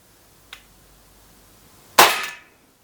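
An Umarex Glock 17 3rd Gen CO2 blowback BB pistol fires one shot with steel BBs: a faint click, then a sharp, loud crack with a short decaying tail, outdoors.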